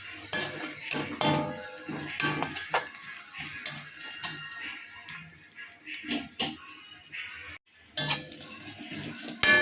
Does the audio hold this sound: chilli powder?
yes